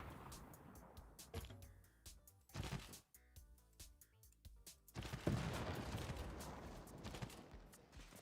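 Field cannons firing in the strategy video game Civilization VI, a rapid cluster of sharp cracking bursts, then a heavier booming volley with rumbling decay, fairly loud and without speech.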